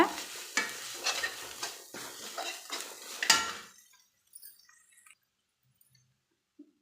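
Vegetables sautéed with salt in a pan are stirred with a utensil, giving close scraping and sizzling strokes for a few seconds before the sound stops and near silence follows with a few faint clinks.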